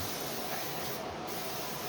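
A spray can hisses continuously, a steady close aerosol spray with only a brief dip in the middle.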